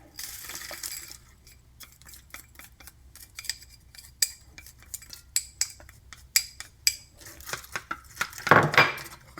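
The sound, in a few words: mixing egg mixture with black pepper and green onion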